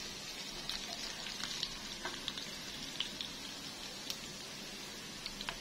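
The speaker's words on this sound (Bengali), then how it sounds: "রসুন কুচিটাকে একদম ব্রাউন করে ভেজে নেব।" Chopped garlic and five-spice (panch phoron) frying in oil for a raw mango pickle: a quiet, steady sizzle with scattered small pops and crackles throughout.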